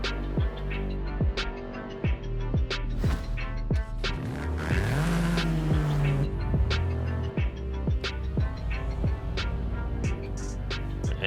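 A Ford Fiesta ST with a front-mounted three-cylinder engine and manual gearbox in Forza Horizon 5, revving hard as it climbs toward its rev limiter. The engine drone is loud and steady, with rising and falling rev sweeps and sharp gear-change breaks.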